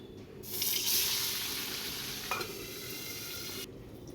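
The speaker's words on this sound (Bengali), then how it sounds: "প্রথমে কড়াইতে তেল গরম করে যে পার্সি মাছগুলো নুন হলুদ দিয়ে মাখিয়ে রেখেছি সেগুলো ভেজে নেব" Parshe fish, rubbed with salt and turmeric, hit hot oil in a wok with a loud, steady sizzle. It flares up quickly, then holds an even hiss for about three seconds before cutting off, with no talking.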